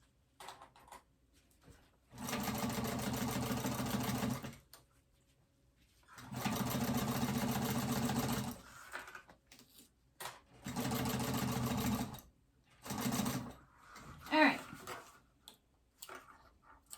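A sewing machine stitches in four short bursts, each a few seconds long with quiet gaps between them, basting fabric for a phone pouch close by.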